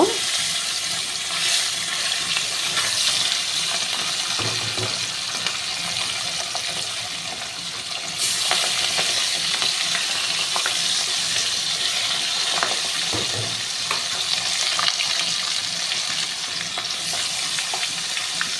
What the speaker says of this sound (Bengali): এবার আমি একে একে মাছগুলোকে ছেড়ে দেব